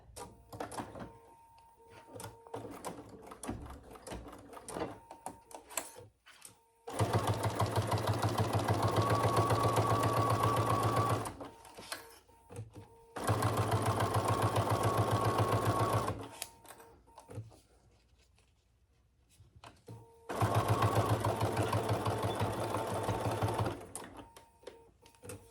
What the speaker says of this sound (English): we're going to do 2 rows of stitches here